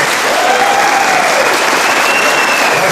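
A large audience bursts into loud, sustained applause after a talk, an even wall of clapping close and continuous, with a faint whistle-like tone gliding through.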